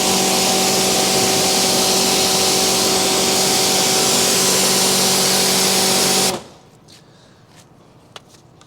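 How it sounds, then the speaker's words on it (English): Pressurised water sprayer misting across a waxed car bonnet treated with Zvizzer graphene wax, a steady loud hiss with a faint pump tone that cuts off abruptly near the end, leaving quiet room ambience and a small click. "So, Karl, can you just give us a spray on the bonnet?"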